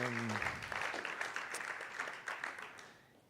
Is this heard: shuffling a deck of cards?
no